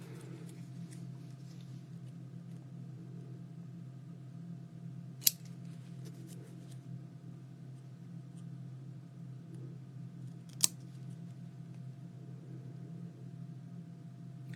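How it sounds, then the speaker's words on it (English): Scissors cut out paper pieces for a mini ATC booklet in a quiet room. A steady low hum fills the background, and faint snips are marked by two sharp clicks. "you see how easy it is to cut these out."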